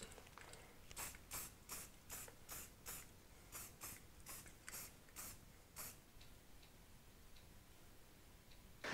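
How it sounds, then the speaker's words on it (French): An aerosol spray paint can sprays a miniature figurine from about 20 cm in a string of short, sharp hissing bursts in quick succession, then a quieter stretch with faint background noise. "on va pulvériser environ 20 cm de la figurine sur l'ensemble de la figurine et laisser sécher"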